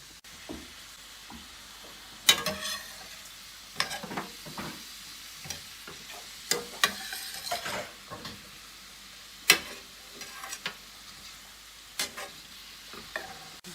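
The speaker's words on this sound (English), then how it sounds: "I'm going to stir the vegetables" Vegetables for veggie enchiladas frying in a pan and being stirred, a soft low sizzle under irregular clacks and scrapes of a utensil against the pan, nearby with no talk.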